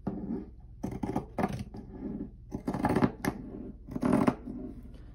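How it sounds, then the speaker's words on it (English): Pinking shears snip through layered quilting cotton in a few close, crisp bursts of crunchy cutting with short pauses between strokes. "I'm gonna cut it with my pinking shears"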